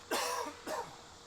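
Two coughs, about half a second apart, fairly close and moderately loud, over a quiet background with no talking.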